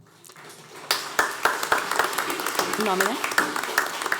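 Audience at a public hearing honoring women breaks into applause, a steady patter of clapping that starts abruptly and continues with scattered sharp claps, while someone speaks briefly over it.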